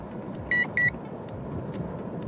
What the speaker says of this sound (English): And it's beeping at 78, so let's just drop it down a bit to get rid of that beeping.